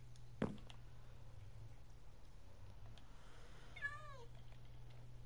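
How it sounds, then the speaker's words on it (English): A single soft cat meow near the end, preceded by a sharp click, over a low steady hum. "Don't meow at me, kitty."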